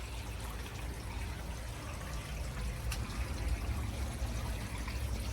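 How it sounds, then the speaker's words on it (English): Water runs steadily through an aquarium plumbing line, a low continuous rushing and trickling that stays soft and even the whole time. "You can hear the water running through that line."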